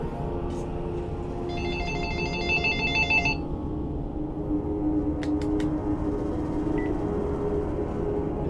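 A phone in the Dragon Age II video game rings with a short burst of bright, trilling electronic tones over a steady low game ambience, followed by a few faint beeps and no talk.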